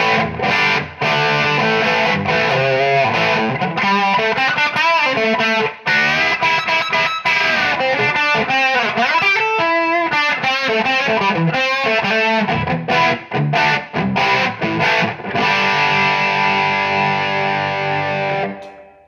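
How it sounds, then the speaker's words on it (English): Heavily distorted semi-hollow ES335-type electric guitar on its bridge pickup, through a high-gain rectifier amp, plays loud, dense riffs and sustained chords, thick saturated tone with brief choppy pauses, continuing for nearly twenty seconds without speech. "Let's go double rectified sound on this in the bridge position."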